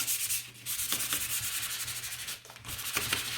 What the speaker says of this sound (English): so now I'm going to sand.